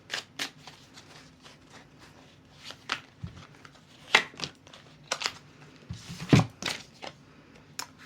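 Halloween tarot cards being shuffled by hand, giving a close, soft run of rapid papery riffles and flicks in uneven bursts, with a few louder snaps and thumps near the end.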